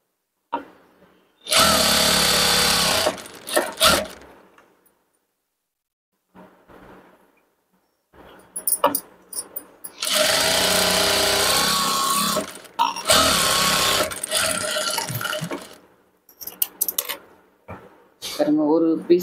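An electric sewing machine stitching fabric pieces whirs in three sustained motorized bursts, separated by quiet pauses and small handling clicks.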